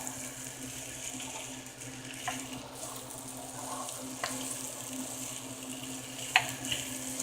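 Hamburger meat with sautéed bell peppers and sauce stirred together in a large cooking pot for enchiladas, giving a soft steady sizzle with occasional faint scrapes and clinks of the spoon, no talking.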